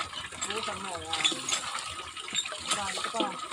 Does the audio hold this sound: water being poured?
yes